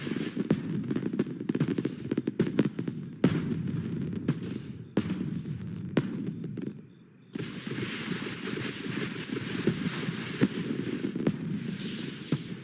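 Fireworks in The Sims 4 video game, a dense continuous barrage of crackling bursts and pops at steady loudness, with a brief near-silent gap midway before the crackle resumes.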